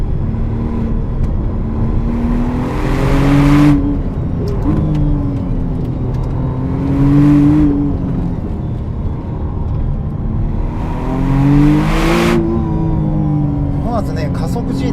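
McLaren Artura 2025 supercar accelerating hard along a winding road, engine note rising in repeated surges between gear changes, loud and close from inside the cabin, with someone talking over it.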